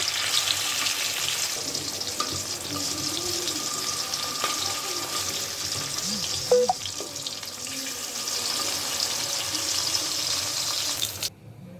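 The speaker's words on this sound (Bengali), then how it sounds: "এক এক করে মাছগুলো দিয়ে দিচ্ছি ভাজার জন্য" Steady hiss and crackle of rohu fish frying in hot oil in a kadai, continuous and fairly loud, with a few faint clinks partway through before it cuts off abruptly at the end.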